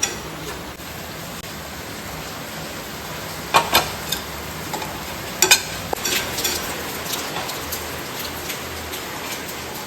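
Finely chopped ginger and garlic fry in a pan for dahi tadka, giving a steady close sizzle with scattered crackles and pops.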